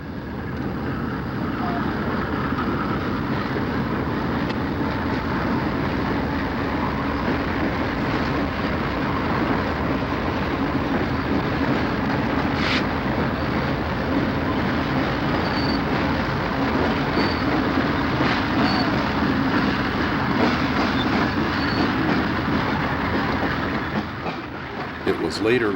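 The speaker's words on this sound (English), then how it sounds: "6520 on the point is a General Electric 1966-built ex-Pennsylvania Railroad U-28C, still wearing its old number" A Conrail freight train led by a 1966-built General Electric U-28C diesel locomotive, ex-Pennsylvania Railroad, rolls past in a continuous loud rumble with rhythmic clattering of the wheels that runs throughout.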